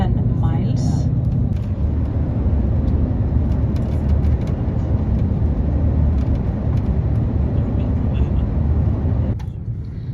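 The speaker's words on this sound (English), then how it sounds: "So we're gonna drive now through the first part of the Héðins tunnels, which are close to 7 miles." Tour bus driving through Iceland's Héðinsfjörður tunnels, a loud, steady low engine and road rumble filling the cabin, with a voice speaking over it early on.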